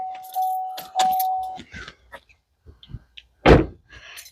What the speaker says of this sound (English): Keys in my hand.